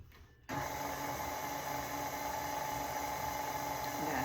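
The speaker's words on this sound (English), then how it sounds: "once you turn the mixer on, you don't want stuff going flying everywhere" Electric mixer starting up in 7up pound cake batter, a motor whine that kicks in abruptly after a short quiet moment and then holds loud and steady up close.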